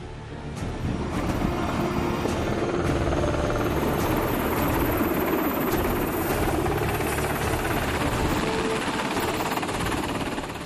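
MH-60 military helicopters fly during the Malabar naval exercise at sea, producing a loud, continuous rotor and engine roar that holds steady throughout with no voices.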